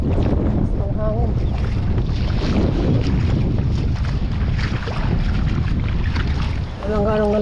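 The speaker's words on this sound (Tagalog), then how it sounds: "Ang hangin." Strong wind buffets a small boat at sea during a fishing trip, a steady roaring rush of gusts across the microphone with boat and water noise underneath and brief voices near the end.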